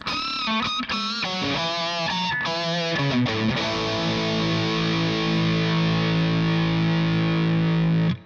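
An electric guitar played through a Pocket Marshall Plexi amp pedal set for a rhythm tone gives distorted, choppy chords for a few seconds, then one long ringing chord that sustains and cuts off sharply.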